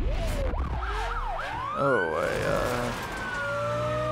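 Lamborghini police car siren in the racing game Need for Speed The Run, a loud wailing electronic siren sweeping up and down close by over engine and road noise, with a brief voice at the start.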